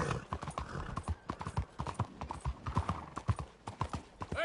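Horse hooves clip-clop steadily in Red Dead Redemption 2, a brisk rhythmic walking gait close by, with faint game ambience underneath.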